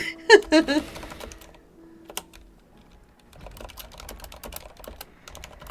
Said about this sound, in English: I'm just typing out to May.